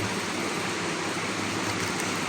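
Steady rain pours down outdoors during morning worship preparations, a dense unbroken wash of hiss that stays even and fairly close for the whole stretch, with no voices.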